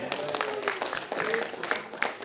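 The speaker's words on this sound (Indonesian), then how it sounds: "tepuk tangan dong" Audience at an open mic stand-up comedy show breaks into brief clapping mixed with crowd noise and some voices, a short, moderately quiet burst of scattered claps.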